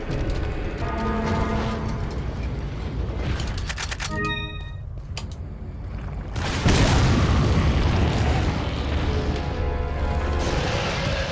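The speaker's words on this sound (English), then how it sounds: "So once again, our trusty rocket launcher doesn't fail us." A rocket launcher blast kills the boss in Resident Evil 4: game noises and a brief tonal chime give way to a sudden loud explosion that rumbles on for several seconds, with no speech.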